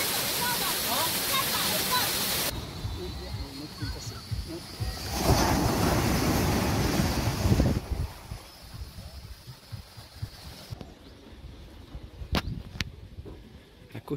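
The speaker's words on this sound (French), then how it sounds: "Voilà les chutes, le waterfall." A waterfall near the Big Buddha on Koh Samui rushes as a steady wash of water noise, swelling in the middle and then fading to quieter patches as the view shifts.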